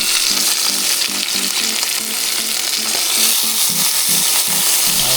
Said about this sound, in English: So, get a nice sear on there.